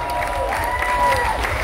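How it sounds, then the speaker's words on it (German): A festival crowd in a large hall applauds saxophonist Erwin after he plays his golden saxophone, with sustained clapping mixed with cheering and a murmur of crowd voices, loud and close. "Dein Applaus, Erwin."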